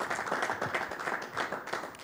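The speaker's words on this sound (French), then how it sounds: "Est-ce qu'on peut les applaudir?" A quiz-show audience in a studio applauds in a steady, dense patter of clapping throughout, with no voices over it.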